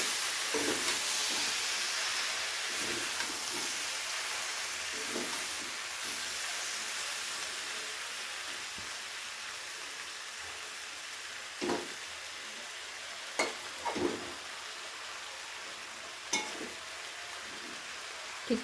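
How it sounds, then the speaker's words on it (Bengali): Spinach and mixed vegetables frying in a pan, a soft continuous sizzle and steam hiss with scattered scraping stirs of a spoon, the clatter growing sharper and more frequent toward the end. "আমি ঢাকনাটা খুলে একবার নাড়া দিয়ে দেবো সবজিগুলো"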